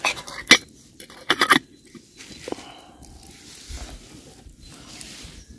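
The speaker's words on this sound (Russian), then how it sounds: "Посуда." Camping dishes and pots clink and clatter at a riverside campsite with a campfire: two sharp bursts of metallic knocking early on, then a softer clink and faint shuffling, footstep-like rustles, all close and without speech.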